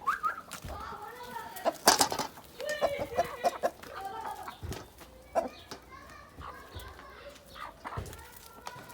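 Several chickens and two roosters cluck and chatter nearby in an irregular, busy mix, with scattered sharp calls and soft background voices.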